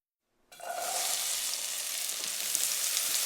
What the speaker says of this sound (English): this one begins with onions and garlic sauteed in olive oil